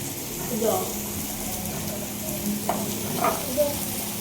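Chicken fries in a pan with garlic butter, giving a steady close sizzle with a few brief stirring and spattering accents throughout.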